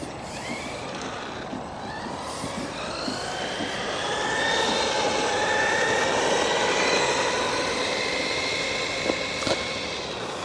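A beginner RC car drives on its slow speed setting, giving a continuous whining electric motor whose pitch rises and falls. The sound is steady and fairly loud, with no talking.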